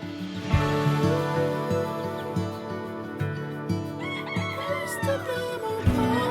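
A young rooster that has only just learned to crow, on a farm, lets out a clear, close crow with a few clucks and other chicken sounds around it.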